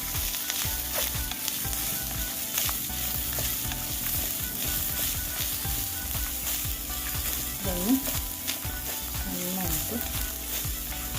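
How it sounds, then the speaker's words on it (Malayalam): Grated coconut sizzles and crackles in a hot pan for a jackfruit masala curry, a steady close frying hiss broken by frequent scraping stirs of a spoon against the pan. "നമുക്ക് ഈ തേങ്ങ ഇട്ട് കൊടുക്കാം തേങ്ങ നന്നായിട്ട് ചുവക്കണം കേട്ടോ"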